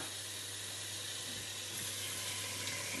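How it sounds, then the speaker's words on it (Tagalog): Tap water runs steadily into a pot holding washed beef lung and heart for cooking, a continuous close hiss and splash with a low hum beneath and no speech. "Lagyan ko muna ng tubig."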